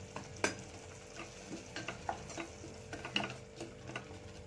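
Chilli and coriander powder frying in oil in a pan for aloo kurma, a low quiet sizzle under repeated scraping stirs of a small spoon, with soft clicks against the pan.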